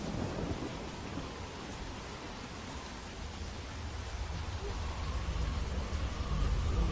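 Steady rain in a video game hisses without a break, with a low rumble underneath that grows slightly louder toward the end.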